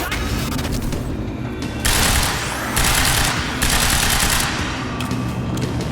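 Sniper fire and heavy shooting from Quantum Break on hard difficulty form a loud, sustained barrage, with several bright bursts of gunfire standing out over a thick rumbling bed. No one talks over it.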